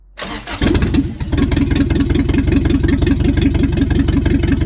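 An old car's engine cranks and catches, then settles into a loud, rough, rattling idle with a steady rhythmic chug, close and alone; the car has a possible exhaust gasket problem.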